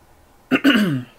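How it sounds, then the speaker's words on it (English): A single person clears their throat, two short harsh bursts close to the microphone, with a slightly sick voice and no speech around it. "Sorry, I keep clearing my throat."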